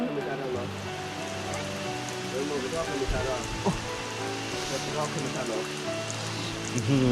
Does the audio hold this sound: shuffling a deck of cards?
no